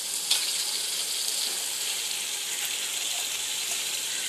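Chicken pieces fry in a pan for biryani, giving a soft, steady sizzle with faint crackles and occasional stirring clatter, fairly quiet and unbroken by speech.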